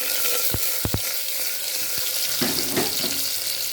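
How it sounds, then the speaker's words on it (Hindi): Onions, garam masala, whole spices and green chilies frying in a pan for chicken curry, a steady bright sizzle with a few sharp knocks early and stirring scrapes toward the end. "You are just adding the garam masala, khada masala, the green chilies, and then the onions."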